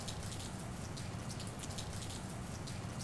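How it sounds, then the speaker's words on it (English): Rain just beginning to fall, a constant close hiss of drops with fine patter throughout, steady and unbroken without speech. "I cannot believe it just started raining."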